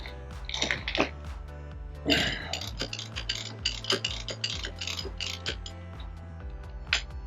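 An Allen key loosens brake caliper bolts on a Renault Mégane RS, giving close metallic clicks, ratcheting and clinks over a low steady hum, with sharper bursts of tool noise and no talk.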